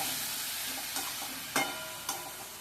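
Fish fries in oil in a covered pan on a stove, a steady close sizzle and hiss with a few soft clinks of a spatula, no talk.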